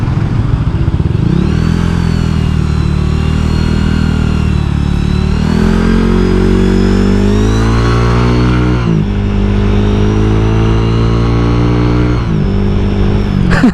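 A Honda Vario 125 scooter engine revs hard on the throttle during a ride, loud and close, its pitch climbing and falling through repeated rises with sharp drops, no voices over it.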